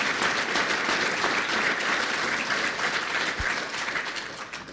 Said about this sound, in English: Let's give Wes Becker and Eric Hastings a big round of applause.